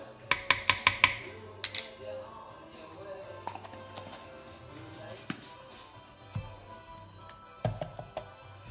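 Cassava flour and baking powder stirred in a bowl, a quick burst of close clinks and scrapes at the start, then sparse knocks and taps under low background noise.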